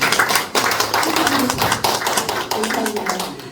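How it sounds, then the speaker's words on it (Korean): Audience applause at author Yun Young-ho's book launch ceremony in Hongcheon, a dense, steady patter of many hands clapping close by, with a voice speaking over it. "여러분 박수 한번"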